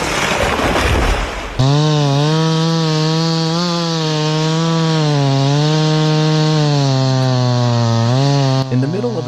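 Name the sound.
chainsaw cutting deep into a large charred tree trunk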